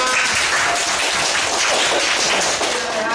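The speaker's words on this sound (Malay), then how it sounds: "tepuk tangan untuk kamu semua" Classroom of students clapping together during a micro teaching lesson, a dense steady patter of hands lasting throughout, fairly loud and close with no clear talk over it.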